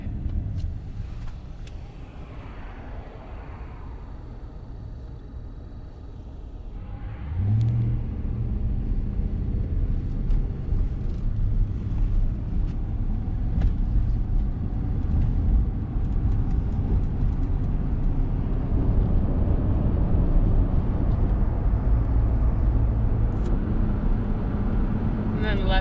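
A truck drives along a road with a steady low engine and road rumble that grows louder after a few seconds and holds, while people talk over it.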